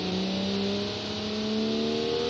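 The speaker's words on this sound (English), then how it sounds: "Wow, that's a sweet acceleration." A car accelerating in the game Automation, a steady engine drone whose pitch climbs smoothly as it revs, continuous and moderately loud with no talking.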